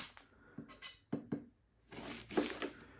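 A sharp knife cuts through onions at a kitchen board, making a few separate knocks and taps followed by a busier run of light clinks and scrapes, close and fairly quiet.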